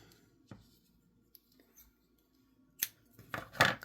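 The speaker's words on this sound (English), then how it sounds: "And then I'm going to trim this off a little bit." Scissors snip through patterned paper while trimming a junk journal embellishment, with a faint early cut and then a few sharp, close crisp snips near the end against quiet background.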